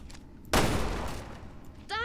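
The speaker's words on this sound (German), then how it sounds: "Ich schieß auf das Ding vor dir, warte." Barry firing at a creature in Resident Evil Revelations 2: a single loud gunshot blast with a lingering decaying tail, preceded by faint game sounds and followed by a voice.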